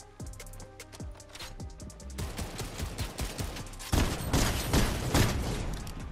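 Fortnite gunfire in bursts: scattered sharp single shots at first, then denser rapid volleys building to loud, continuous automatic fire near the end, with no talk over it.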